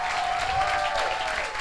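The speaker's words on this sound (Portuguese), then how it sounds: "Vamos aplaudir a pastora Ângela" Church congregation applauding a pastor at a conference: dense, steady clapping from a crowd fills the whole short stretch, fairly close and uninterrupted.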